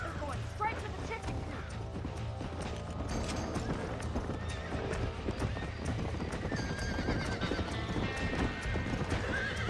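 Hooves clatter in a fast, steady gallop with occasional neighs and whinnies from a horse in Red Dead Redemption, close by, with voices talking over the sound.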